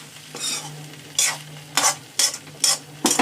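Fried brinjals are stirred in a sizzling pan for a dried prawn curry, five or six sharp scraping strokes rising over a steady frying hiss, close and loud.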